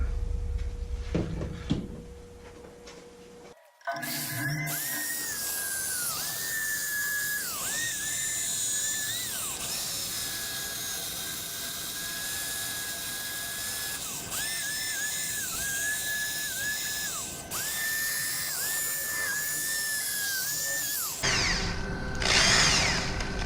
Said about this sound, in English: So I'm going to sand it out and finish it.